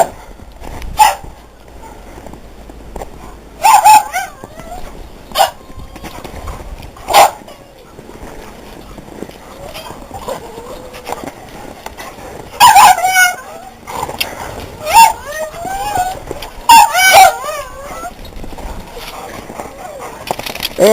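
Dogs barking outdoors in snow after a blizzard in Omaha, Nebraska, with several short sharp barks and whimpers spaced through the clip, moderately close, with people talking in between.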